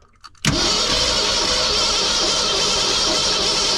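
A 1968 Ford F100 pickup truck engine cranks over after a brief pause, then keeps up a loud, steady churning roar close by for several seconds.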